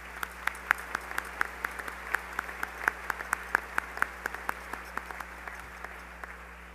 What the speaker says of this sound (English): let's give another round of applause for that awesome performance by our choir and orchestra